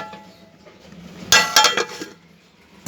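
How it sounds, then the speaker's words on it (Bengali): A lid is placed over a pot of drumstick and lentil dal, giving a short cluster of bright metallic clanks and rattles close by, then quiet. "এখন কিছুক্ষণের জন্য আমি এটা ঢাকনা দিয়ে ঢেকে দেব।"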